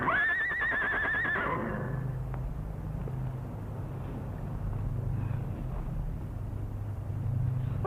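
A horse gives a loud, shrill whinny up close in an old Western cowboy setting, trailing off after about a second and a half into a low rumbling background.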